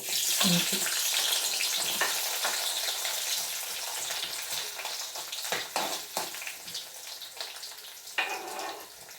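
Garlic and ginger fry in hot oil for a lemon pickle, a loud, dense sizzle that slowly settles, broken by a few scraping stirs and utensil knocks near the end.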